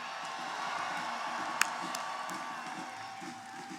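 A crowd at an outdoor rally in Seattle cheers and whoops in a steady roar, with a sharp clap or shout standing out briefly.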